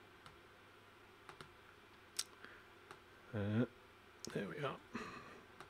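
Scattered clicks of a computer keyboard tap out sparse, irregular keystrokes while C++ code is written, faint and close, with someone speaking briefly in between.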